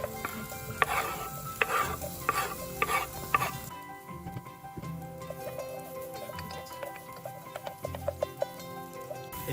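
Onions frying in oil in a pot at the start of a beef meatball curry, with a steady sizzle and occasional stirring and utensil clatter, moderately close, no talk.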